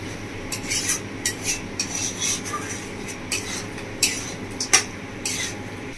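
Chicken kosha with whole urad dal being stirred and fried in a pan, a spoon rasping and scraping against the metal in irregular strokes, fairly close and moderate in volume, with a soft sizzle underneath and no talking.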